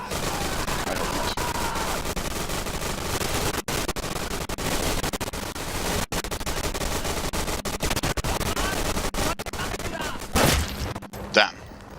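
Rapid, dense gunfire from rifles and machine guns in the World War II shooter Day of Infamy during the Dunkirk invasion, with sharp cracks and bursts continuing throughout and voices talking over the shooting.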